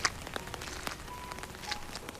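Steady rain falls in a Bengali ghost cartoon, a soft continuous patter with a few sharper drop ticks scattered through, fairly quiet and without speech.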